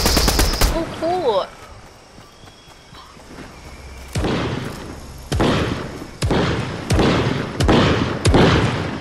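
Gunfire from a gun in the video game Fortnite: after a brief burst and a quiet stretch, a series of heavy, booming shots rings out at a steady spaced rhythm, loud and close.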